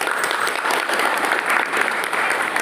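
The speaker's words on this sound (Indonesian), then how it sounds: "Tepuk tangan mereka ya." A church congregation at a mission station in Indonesia breaks into applause, giving a brisk, even wash of many hands clapping close by for a few seconds, with no one speaking.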